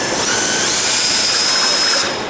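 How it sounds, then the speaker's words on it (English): A cleaned and reassembled engine oil pump spins on a power drill, a loud, steady high-pitched whine with a constant tone that holds for a couple of seconds and then tapers slightly. "here's the pump, just running off a drill."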